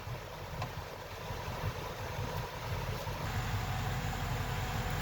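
An LS-swapped engine in a Squarebody rollback truck idles nearby as a steady low rumble with a faint mechanical hum, unchanging throughout.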